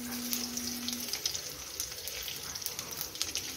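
Crushed garlic cloves and mustard seeds sizzle in hot oil for an okra curry, a faint, even crackling hiss with small popping specks.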